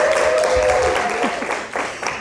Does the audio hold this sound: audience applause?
yes